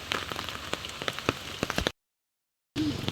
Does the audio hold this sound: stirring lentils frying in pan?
no